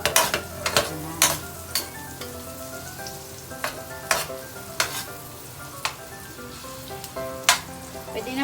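Garlic and onion sautéing in butter in a pan, a steady sizzle broken by repeated clinks and scrapes of stirring, close and clear with no talking.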